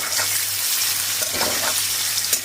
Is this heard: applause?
no